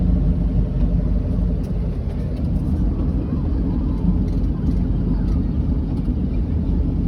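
A boat engine idles with a steady, low rumbling drone that stays constant and fairly loud throughout, running on a Holley Sniper marine EFI fuel injection system.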